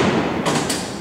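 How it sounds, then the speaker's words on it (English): A clutch mechanism locks cell doors at Alcatraz prison with a loud, dull thud and a short second impact close together, all within about a second. "That's the sound of the clutch."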